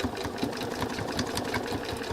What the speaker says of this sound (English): so now I've started doing the sewing